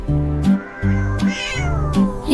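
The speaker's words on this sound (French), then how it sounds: "Le chat sauta haut à travers les rayons de la lumière" A cat meows repeatedly, four clear, close and loud meows in quick succession, each a drawn-out, tonal cry with rising and falling pitch, heard alone with no talk.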